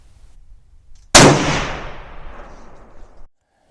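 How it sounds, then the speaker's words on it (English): A single loud, close rifle shot from a Ruger American Predator, sharp crack followed by a long rolling echo that fades over about two seconds outdoors. "So the 4th and 5th shot out of this Ruger American Predator are touching."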